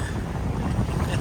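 Wind blows hard on an open beach, a steady rushing roar with a faint wash of surf beneath and no voices.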